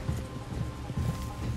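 Horse hooves clip-clop in the Red Dead Redemption 2 video game, a few soft rhythmic hoofbeats at close range over a low background murmur.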